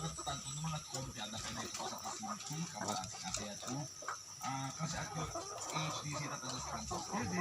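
Several chickens cluck on and off throughout, a busy farmyard chatter with bird calls over steady outdoor background noise on a farm.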